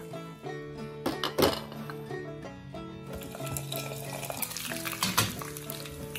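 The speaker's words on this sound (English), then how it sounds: "Add some mustard seeds into heated coconut oil, then a pinch of fenugreek seeds, some curry leaves, and a few dried red chilies" Mustard seeds, fenugreek seeds, curry leaves and dried red chilies sizzle and spatter in hot coconut oil in a pan, a steady crackle with a few stirring knocks beneath background music.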